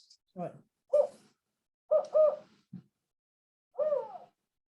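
A series of four or five hooting owl calls from a handheld caller, each short and breathy with pauses between, fairly close and clear.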